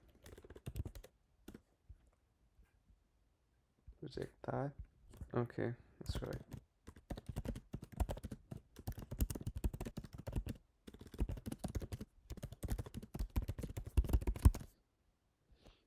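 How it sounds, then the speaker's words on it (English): Rapid clicky typing on a refurbished MacBook M3 Pro keyboard runs in bursts for several seconds, with a person speaking briefly near the start. "the keyboard is pretty clicky."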